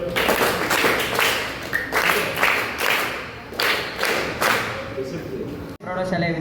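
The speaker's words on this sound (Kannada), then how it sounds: "ಸಾಗರ್ಗೆ ಒಂದು ಚಪ್ಪಾಳೆ." An audience at a school event claps for a student named Sagar, a steady broad patter of many hands sustained for several seconds, with a voice briefly heard.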